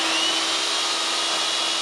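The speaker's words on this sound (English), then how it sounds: "Drill" A loud, continuous high-pitched whine of an electric drill running steadily at constant speed on an AFERIY 2400W power station, close up, with no other sounds.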